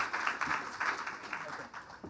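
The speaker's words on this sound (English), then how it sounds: "Please give John a round of applause." Moderate audience applause at an education technology forum panel comes in as a soft, steady wash of clapping for an honoured teacher, heard from a distance in the hall.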